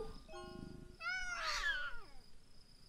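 A person imitates a cat with a single drawn-out, high meow that bends in pitch, heard close and alone after a brief lower vocal sound.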